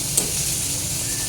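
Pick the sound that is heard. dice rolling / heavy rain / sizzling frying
sizzling frying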